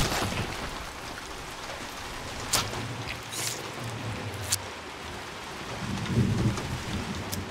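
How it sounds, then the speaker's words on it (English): Heavy rain pours steadily in a shooter video game, a dense continuous hiss with rolling thunder rumbles and a few sharp cracks, loud and close with no talk over it. "Heavy rain is gonna be bad"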